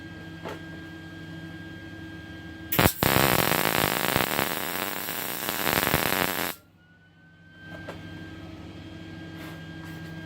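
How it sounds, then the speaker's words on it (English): Tack welding on a custom front axle frame for a gas-powered F-150 ride-on toy, a loud continuous sizzling, crackling burst of about four seconds over a background hum, then quiet. "for now I'm just going to tack this in place"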